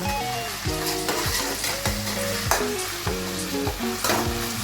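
Onion and ginger paste stirred around in hot oil for mutton biryani, a steady sizzle broken by repeated scraping strokes of a spoon against the pan, close and fairly loud with no one talking.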